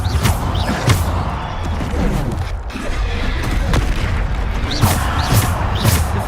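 Repeated Bombarda blasting-spell explosions in Hogwarts Legacy, loud booming bursts with crackling debris tumbling back to back through most of the stretch, dense and close.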